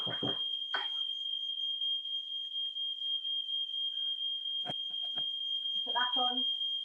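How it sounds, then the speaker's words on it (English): A smoke alarm sounds a steady, piercing high tone throughout a live cooking demonstration at a food festival, while a voice talks intermittently beneath it along with brief clatters of kitchen activity. "fire alarm, hold there."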